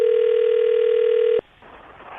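A steady single-pitched telephone ring tone sounds alone for just over a second and then cuts off abruptly as radio morning-show hosts Brooke and Jubal call Jillian, leaving a quieter line hiss afterward.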